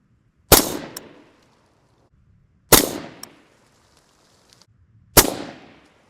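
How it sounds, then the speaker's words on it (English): An AR rifle fires three rounds at a 25-yard target on a range. Each shot is a single sharp, loud crack with a short fading tail, and the shots come evenly spaced a couple of seconds apart. "we'll just start firing these rounds off"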